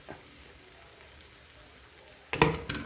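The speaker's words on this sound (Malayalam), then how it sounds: "നമ്മുടെ മല്ലിപ്പൊടി മുളക് പൊടി ഉലുവാപ്പൊടി മഞ്ഞൾപ്പൊടിയുടെ ബാലൻസ് എല്ലാം കൂടെ ഇതിലേക്ക് തട്ടിക്കൊടുക്കുക" Coriander, chili, fenugreek and turmeric powders tipped into a hot pan for a Malayalam ladies finger dish, a faint low simmer suddenly flaring into a loud sizzling crackle near the end.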